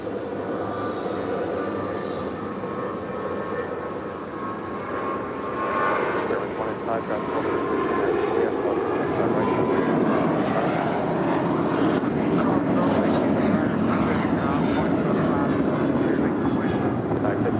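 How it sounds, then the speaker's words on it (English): An Alaska Airlines Boeing 737-900 bound for Portland rolls down runway 25 right at LAX, a steady jet roar swelling in the second half, with a voice talking over the engine noise. "Alaska, 737-900 heading to Portland, rolling down to 5 right"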